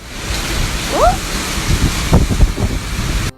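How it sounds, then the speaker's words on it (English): Strong wind roars and gusts in a broad, rushing wash with a heavy rain-like hiss, punctuated by brief thuds and a faint voice-like sound, during a major storm in downtown San Antonio, Texas. "turning strong winds and heavy rain into hazards on every street"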